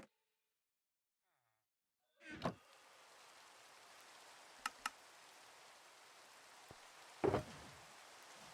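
Steady Minecraft rainfall hisses as a dense, even wash that starts abruptly and then runs on without a break, with a few brief louder splashes and taps breaking through along the way.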